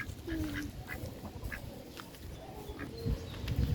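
Imported ducks quacking steadily in a repeating chorus, several birds calling close by in an outdoor setting with a low background murmur.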